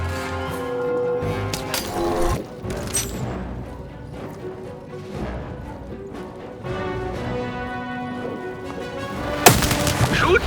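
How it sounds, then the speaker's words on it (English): A cannon fires in the video game Lost in Random, with sharp booming blasts around the start and a louder blast near the end, all over steady game music. "the button to fire the cannon"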